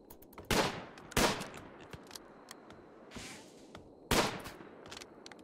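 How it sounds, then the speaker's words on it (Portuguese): Gunfire in the video game RimWorld: several sharp shots, two close together near the start and another a few seconds later, loud and dry against quiet background noise with scattered faint clicks. "Quem tá dando tiro?"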